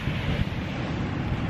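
Steady wind buffets the microphone at a beach in southern Mauritius, a constant low roar with no talk.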